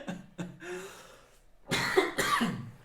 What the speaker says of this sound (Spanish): que hasta me está dando la tos